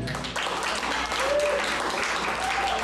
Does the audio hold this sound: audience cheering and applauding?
yes